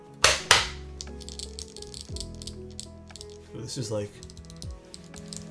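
Keystrokes on a Zoom75 TIGA mechanical keyboard, soft clacks and taps in irregular bursts after two sharp louder hits, close up, with a voice talking briefly.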